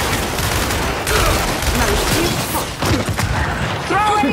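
Gunfire in the Gears 5 video game, rapid bursts of automatic shots and impacts crackling densely and loudly across the whole stretch, with shouting voices mixed in.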